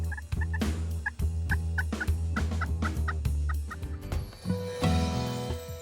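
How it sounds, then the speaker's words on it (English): A wild Missouri turkey on a ranch gobbles repeatedly in quick rattling bursts, loud and fairly close, against a steady musical background. "We're hunting Missouri turkey on the East Fork Ranch with Dirt King and Charlie Ingram."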